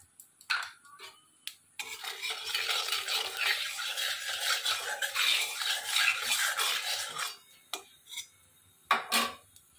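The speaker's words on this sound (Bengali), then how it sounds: "বেগুনগুলোকে আমি ভেজে নেব। কড়ার মধ্যে আমি বেগুনগুলোকে দিয়ে দিলাম।" Eggplant pieces go into mustard oil with salt and turmeric in a kadai, giving bursts of sizzling frying broken by sharp metallic clinks and scrapes of a utensil against the pan, with short quiet gaps between.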